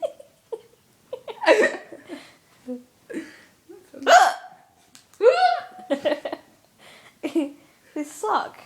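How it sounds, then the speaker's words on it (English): Repeated hiccups from a person, sharp voiced bursts spaced irregularly across several seconds, close and clear, with a little speech-like vocal sound between them. "I hate hiccups."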